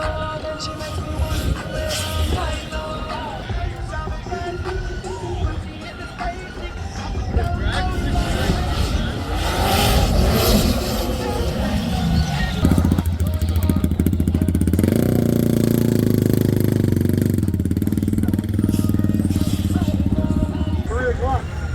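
A UTV engine revs hard on a hill wheelie run at the UTV Takeover wheelie fest in Coos Bay, loud and sustained throughout, with a deeper steady drone rising in the second half under crowd babble and talk.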